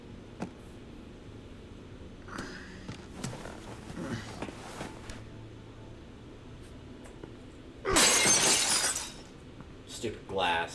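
Glass shatters in The Walking Dead video game, a loud crash of breaking glass near the middle, with a couple of smaller follow-up hits, set against faint ambience and a voice talking over it.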